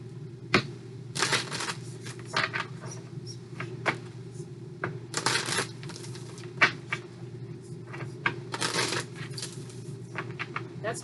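Tarot love cards being shuffled for a reading, with bursts of riffling and soft slaps of the deck interspersed with small taps and clicks, close and fairly quiet, with no talking.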